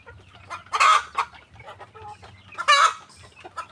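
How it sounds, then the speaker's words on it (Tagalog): Free-ranging chickens in an open backyard area cluck close by, with two louder squawking bursts standing out over softer, scattered clucks and low murmuring from the flock. "manok"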